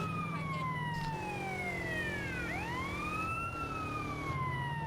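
Police car siren in GTA San Andreas wailing loud and close, its pitch sweeping up and down in a continuous cycle over steady engine and traffic rumble.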